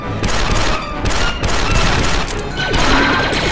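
Dense, loud blaster gunfire from Star Wars Republic Commando fills the scene in overlapping volleys with crashing impacts, continuous throughout.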